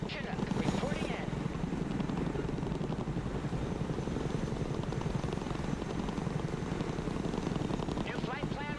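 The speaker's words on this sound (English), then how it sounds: "Chinook, reporting in." Chinook helicopter in the strategy game Broken Arrow, a dense, steady rotor thrum and engine drone that holds throughout, with brief radio-style chatter layered over it.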